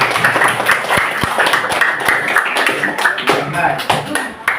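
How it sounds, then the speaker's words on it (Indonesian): Children in a classroom clap their hands together in a dense, steady burst of applause with voices mixed in, lasting a few seconds at close range. "Tepuk tangan buat semuanya."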